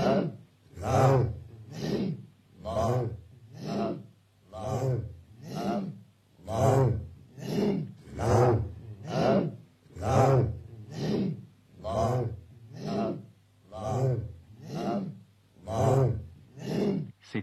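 Rhythmic Sufi breathing during dhikr in Afghanistan, a steady series of about sixteen forceful, voiced exhalations and inhalations repeating roughly once a second, close and loud, with no other sounds.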